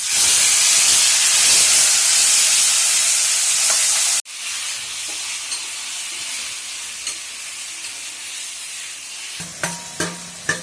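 Drained taro leaves hit a hot pan and set off a loud, steamy hiss and sizzle that drops suddenly partway through, then settles into quieter frying with a few clinks and stirring sounds near the end.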